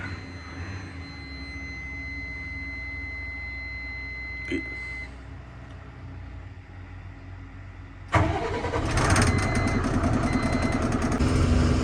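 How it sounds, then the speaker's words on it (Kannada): A truck engine idles with a low steady rumble, then the engine is started or revved, jumping into a louder, rougher running roar close by. "ಇವಾಗ ಇಲ್ಲಿಂದ ಗಾಡಿ ಸ್ಟಾರ್ಟ್ ಮಾಡಿಕೊಂಡು"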